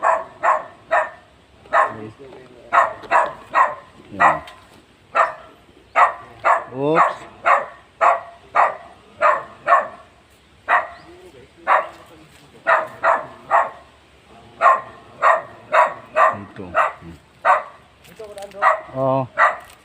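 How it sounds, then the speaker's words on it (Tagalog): A dog barks repeatedly in quick bursts in a mountaintop cemetery, loud and close, with brief whines and yips mixed in between the barks. "May aso mga idol."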